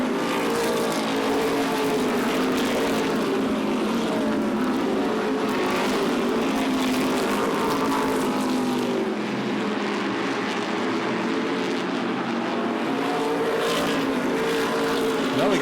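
NASCAR Modified race cars roaring around Beech Ridge Motor Speedway in 2003, a dense continuous engine drone with rising and falling pitch as a pack passes, loud and constant throughout.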